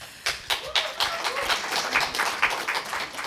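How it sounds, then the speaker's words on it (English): Assembly members clapping in a hall right after a resolution passes, a brisk burst of distinct individual claps settling into a steady patter of applause, fairly close and with no speech over it. "it does seem today as if we're getting more and more applause as measures of opinion on each speech"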